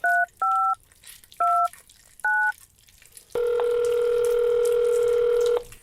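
Telephone being dialed, four short paired touch-tone beeps at an uneven pace followed by a steady sustained tone, clear and close with no talk.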